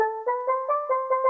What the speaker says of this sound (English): Then we're also adding in this preset from Purity called Steel Drums.